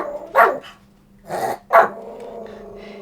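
Fluffy, a dog, barks three times indoors with loud, gruff, slightly growling barks in an uneven rhythm, followed by a low rumbling tail.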